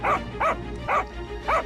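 A dog named Kaka barks four times in a steady rhythm, each bark close and fairly loud, with short pauses between them over a low background hum.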